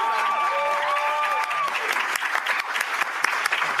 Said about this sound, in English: Can we clap for our panel, family?